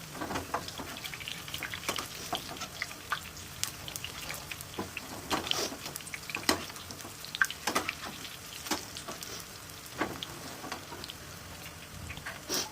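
Food frying in a pan in a home kitchen: a steady, close crackling sizzle with frequent sharp pops throughout, no talking.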